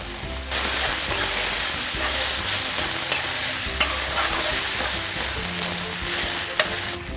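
Glass noodles stir-fried with yellowed mushrooms in a hot pan give a loud, steady sizzle with scraping stirs running throughout, alone without voices.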